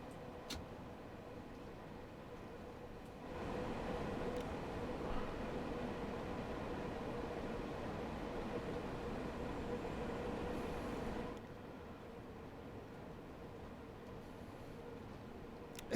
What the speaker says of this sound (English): It's just a 1972 tube train on the London Commuter run.